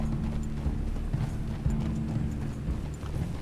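Horse hooves clip-clop in a steady walking rhythm in the video game Red Dead Redemption 2, close and clear over a low, constant background hum.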